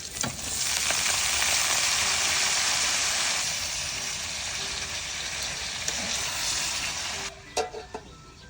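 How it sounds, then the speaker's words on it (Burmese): Washed water spinach leaves hit hot oil in a pot and fry with a loud, dense sizzle that slowly settles, ending with a few stirring clatters; no talking. "ရေတန့်အောင်ဆေးထားတဲ့ကစုံရွက်ကလေးတွေထည့်ကြော်လိုက်ပါမယ်"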